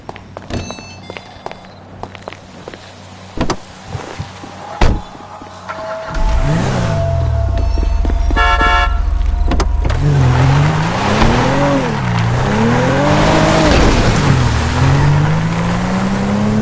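A car in the video game GTA 5, driven toward Paleto Bay, gives a steady loud engine drone from about six seconds, with pitch swells as it revs and shifts, after a quieter stretch of scattered footsteps and knocks.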